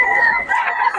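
A rooster crows loudly and close by, a long drawn-out call filling the whole moment with a harsh, strained tone.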